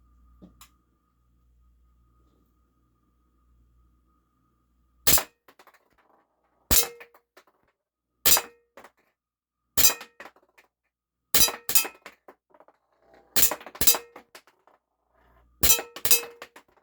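A Walther PPK/S BB pistol fires ten H&N Smart Shot BBs at a nearby target after a quiet stretch. Each shot is a sharp, clinking snap, some spaced a second or more apart and some in quick pairs.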